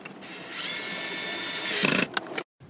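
A power driver briefly whirs as screws are driven in during a wireless phone charger install in a 2014-2019 GM truck jump-seat console, a short close buzz followed by a few clicks and taps before silence.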